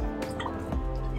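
Water being poured into ground spice paste for a Malvani prawn curry makes a short, close pouring and dripping sound with wet splashes.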